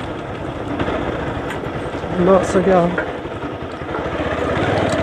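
A motorcycle ridden along a slippery, badly broken muddy road after morning rain, its engine a steady low rumble beneath someone talking throughout.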